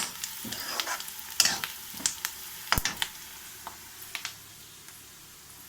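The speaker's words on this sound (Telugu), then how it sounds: "అల్లం వెల్లుల్లి పేస్ట్ కలిపేసుకుందాము." Ginger garlic paste stirred and fried in a pan, with a soft, steady sizzle under a string of scattered scraping and clinking strokes from the spoon against the pan, fairly close and quiet, no voices.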